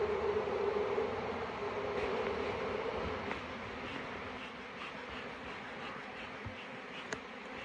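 Dense, steady buzzing of a honeybee swarm inside a hive box holding a built frame, continuous and fairly close, with a few sharper knocks near the end and no voices.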